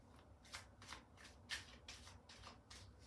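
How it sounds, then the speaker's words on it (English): Someone shuffles a deck of playing cards, about nine quick riffling bursts in an even rhythm, close and fairly soft, with no talk. "I'm shuffling."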